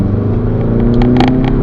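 A 2010 Skoda Superb 2.0 diesel pulling under acceleration, its engine a rough, steady low rumble heard from inside the car, with a few faint clicks and knocks over the drone.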